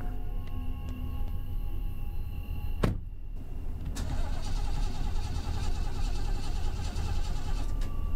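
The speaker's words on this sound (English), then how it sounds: "The car wouldn't start back up." In the horror game Fears to Fathom, a car engine cranks and fails to catch, with mechanical clicks and a sharp clunk around the middle, over a steady low rumble.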